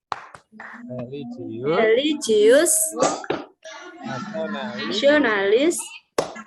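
Sharp hand claps in a quick patterned rhythm punctuate a fourth-grade class chanting the tepuk PPK cheer in unison with their teacher, the voices loud and close throughout.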